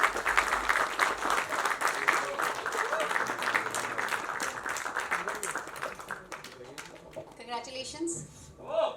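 An audience at a film trailer launch applauds director Ankit Hans, loud sustained clapping that fades out toward the end, with voices under it.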